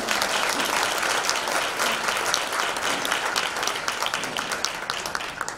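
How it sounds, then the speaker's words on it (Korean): Sustained applause fills a hall as a Catholic representative is welcomed at a Korean religious leaders' emergency national council meeting, steady and fairly distant with a few crisper claps standing out. "박수로 모시겠습니다."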